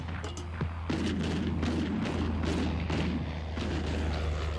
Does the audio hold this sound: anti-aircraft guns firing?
yes